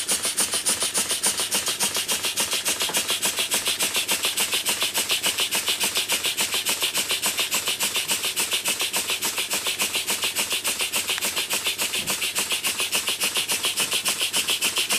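A Schoenner Lipsia model steam engine runs with a fast, even, close chuffing beat and a constant hiss, keeping the same steady rhythm from start to finish.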